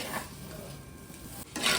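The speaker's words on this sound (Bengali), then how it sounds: "সিমুইটাকে এবার ঘিয়ে ভাজা হচ্ছে।" Vermicelli fries in ghee in a pan, giving a soft, close sizzle with a brief scrape of a utensil near the end.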